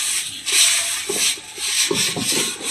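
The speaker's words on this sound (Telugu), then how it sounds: "దీన్ని మొత్తం తుడుచుకోవాలి." Tissue paper wiping oil over a cast iron pan, making a soft, close rubbing and scraping sound in repeated strokes.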